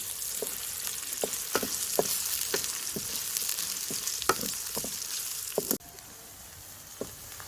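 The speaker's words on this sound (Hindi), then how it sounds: "इसमें प्याज शामिल करूँगी, 2 मीडियम साइज प्याज थे। इनको लाइट ब्राउन करना है।" Two medium onions sizzle steadily in hot oil, browning lightly, with a spoon scraping and stirring at irregular intervals; the frying quiets slightly near the end.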